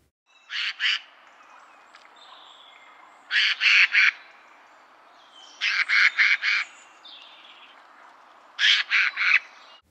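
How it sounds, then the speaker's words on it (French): Harsh, raspy screeches of a Eurasian jay come in four separate bursts of about three or four rapid notes each, close and loud against near silence. "je vais vous présenter le geais des chênes"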